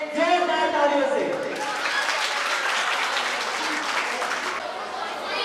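Loud audience applause at a school Teachers Day program, a dense wash of clapping that swells after the first moment and continues steadily to the end, with a voice briefly audible at the start.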